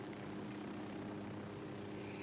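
A video game helicopter thrums with a continuous rotor and engine drone, steady and fairly faint throughout, with no talk over it.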